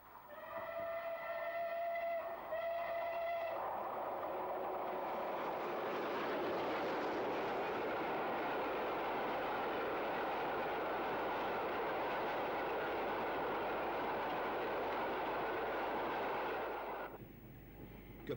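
Steam locomotive 35028 Clan Line heads north through Whittington, its long whistle sounding first, then a loud sustained roar of the engine and rolling carriages passing close by and fading near the end.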